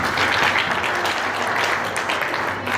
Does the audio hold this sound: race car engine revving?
no